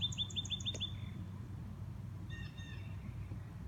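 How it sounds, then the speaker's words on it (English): Birds chirp near a tulip magnolia in quick repeated bursts at the start, then a second, fainter series of tweets follows, over a steady low outdoor rumble. "I can hear birds."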